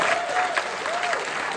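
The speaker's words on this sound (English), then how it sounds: "A round of applause, thank you." A conference audience gives a round of applause, dense continuous clapping throughout with a faint voice under it.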